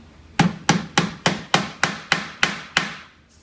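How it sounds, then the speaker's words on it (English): Nine sharp tack hammer taps on small tacks while fitting a Ford Model T touring top, evenly spaced at a steady rhythm, close and fairly loud, with no talking. "spin your hammer around and finish tacking it"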